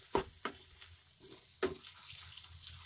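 Ground spices and chana masala roast in a pan with a soft, low sizzle, broken by a few sharp scraping strokes of a spatula at uneven intervals, close and fairly quiet.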